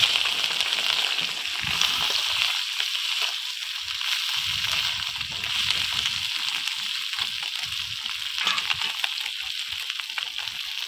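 Hot oil sizzles and spits in a pan as small mourala fish fry with dried chili and mustard seed, a continuous bright crackle with occasional sloshing stirs, close by.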